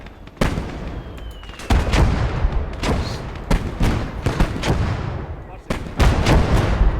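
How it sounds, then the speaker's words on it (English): Artillery fire from a Motherland video game battle, a series of sharp booming shots at irregular intervals over continuous battle noise, with a voice talking beneath. "Gun is firing. Gun is firing."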